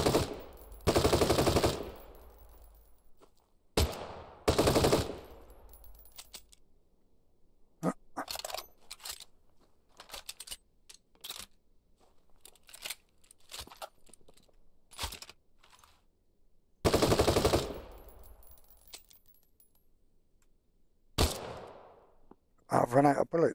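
Gunfire from the survival video game The Front comes in several loud, short bursts spread across the stretch, separated by quieter gaps with scattered small clicks and scrapes.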